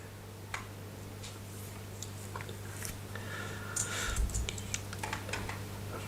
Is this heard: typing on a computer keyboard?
yes